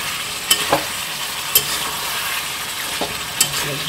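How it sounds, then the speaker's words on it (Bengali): Chicken coated in mildly sour beaten yogurt sizzles steadily in a pan while a spoon stirs it, with a few sharp scrapes and knocks against the pan standing out over the constant frying hiss. "ভালো মতন মিক্স করে নিতে হবে দইটা দিয়ে।"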